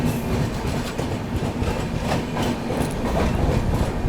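The 22412 Arunachal AC Superfast train runs through Mansi Junction during heavy monsoon rain, heard from on board as a loud, continuous rumble with rhythmic wheel clatter.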